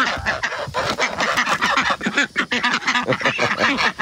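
A flock of ducks quacks close by, many overlapping calls in a busy, continuous chatter.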